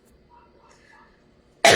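A quiet room gives way to a single sharp, loud cough right at the end.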